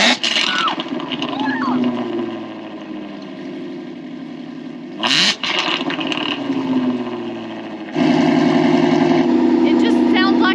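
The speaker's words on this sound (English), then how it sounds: "So this is the first cold start with the new setup." A Shelby GT350 Mustang with its active exhaust deleted cold-starts with a loud roar, settles into a rumbling high idle, blips once mid-way and revs up again near the end, heard up close.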